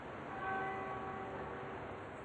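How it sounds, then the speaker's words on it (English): A single bell tolls at dawn, one sustained ringing strike with a long, slowly fading hum over steady outdoor background noise. "He arrived in the half-light of dawn to the sound of a single bell tolling."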